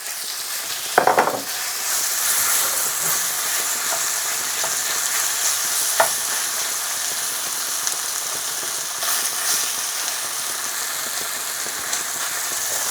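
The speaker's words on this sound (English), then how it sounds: "get up to temperature and keep that sizzle going" Loud, steady sizzling of chicken frying in hot oil over maximum heat, crackling continuously with a few sharper spits and clatters, close up.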